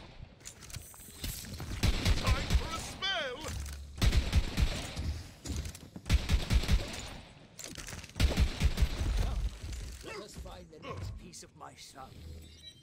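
Repeated bursts of gunfire in the video game Tiny Tina's Wonderlands, fairly loud, with someone talking over much of the shooting.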